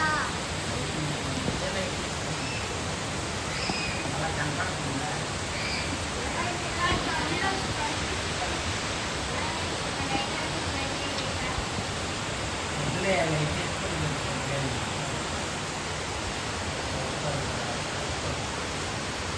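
Hurricane-force wind and heavy rain outside make a dense, constant roar of broadband noise that barely changes, with voices speaking faintly through it.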